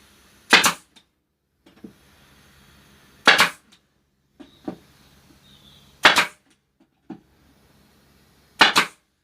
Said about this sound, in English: Shoot the nail in.